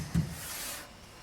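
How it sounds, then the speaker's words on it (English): A short scratchy rasp of sanding filler on a car dashboard, one firm stroke followed by softer rubbing, close and alone. "I'm in the middle of sanding the 7th coat of filler down"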